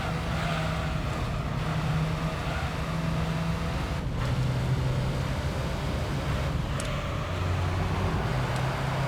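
Toyota Yaris race cars in Gran Turismo 3 run together in a steady engine drone with shifting pitch, constant and fairly loud with no gaps, and no talk over it.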